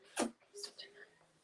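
A sneeze bursts out sharply once during an indoor interview, followed by brief soft speech.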